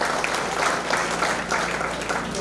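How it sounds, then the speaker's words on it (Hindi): A seminar crowd gives sustained, hearty applause, many hands clapping at once in an even wash of sound with a faint hum underneath. "इसके लिए सिस्टम और अपने सीनियर अपलाइन के लिए एक जोरदार ताली होनी चाहिए।"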